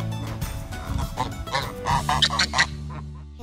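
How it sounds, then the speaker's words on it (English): Several loud, nasal goose honks repeat in quick succession close by, over a busy background of low rumble and other noise. "the silliest, loudest goose. A queen goose."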